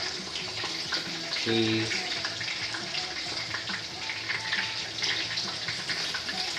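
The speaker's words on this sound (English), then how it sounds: "Fill that pan up." Tap water runs steadily into a cooking pan in a home kitchen while tacos con papas are being made, a continuous splashing rush with a brief voice speaking over it.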